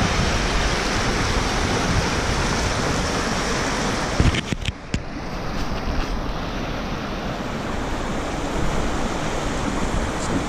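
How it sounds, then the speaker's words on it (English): Rapids on the Lady Evelyn River in Temagami roar in a dense, continuous rush of water, loud and close, with a brief knock partway through. "I decided to hike up to these rapids."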